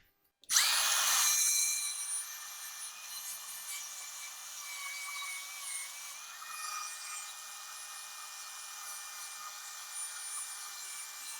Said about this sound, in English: we're going to hit that with some wire wheel